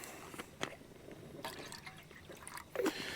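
Water being poured into a cooking can at a lakeside truck campsite: a soft, continuous trickling pour with small splashes and drips, close by with a light outdoor background and no talking.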